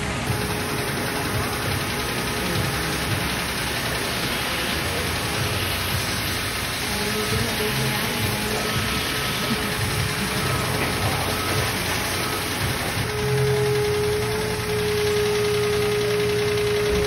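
Water spray hitting a motorcycle during a wash at a shop, a continuous hissing, rain-like patter with an engine or pump humming steadily underneath.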